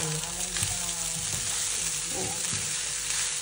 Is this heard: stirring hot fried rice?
yes